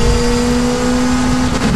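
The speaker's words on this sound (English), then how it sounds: "This is the sound of the Honda WTCC 2014 car." Honda WTCC 2014 touring race car engine in the RaceRoom racing game, a steady, loud droning engine tone held near the rev limiter, continuous throughout with no talking.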